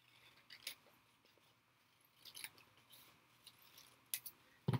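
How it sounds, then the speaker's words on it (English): Scissors snip through magazine paper at a craft table, a few quiet, separate crisp cuts spread out over a faint room hum. "I'm going to cut the bottom off."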